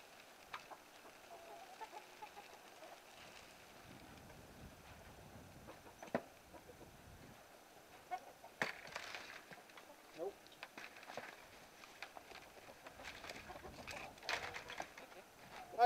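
Chickens cluck and coo softly inside an icy winter coop, scattered short calls at close range over faint background noise, with a few sharp knocks and rustles breaking in.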